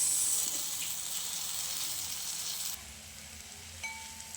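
Spiny gourd frying in a pan, a steady close sizzle of hot oil that drops to a quieter, thinner crackle partway through, with a brief clink near the end.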